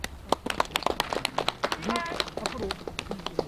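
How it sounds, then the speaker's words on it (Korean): An audience at an excavation site briefing for the Manlimsan earthen fortress in Goseong claps in a short burst of applause, with scattered individual claps and a voice underneath. "다시 한번 박수 부탁드립니다"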